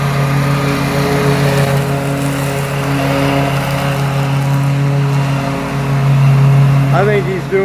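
A leaf blower runs steadily nearby with a droning motor tone, pushing leaves across a lawn, its pitch shifting slightly as it moves, with a person talking over it.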